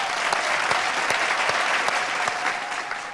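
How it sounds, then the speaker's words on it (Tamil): Steady studio audience applause on a Tamil TV game show, loud and dense with many hands clapping at once, holding evenly from start to finish with no voices over it. "ஒரு நல்ல கைத்தட்டிடலாம்."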